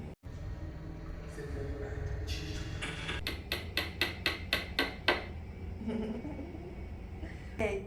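A hammer strikes in a quick run of about eight sharp, evenly spaced knocks over low background noise, played as a sound to guess.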